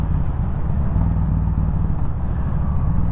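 A Yamaha V Star 1300 touring motorcycle cruising on a road, its steady low engine rumble loud and continuous throughout, mixed with constant wind rush.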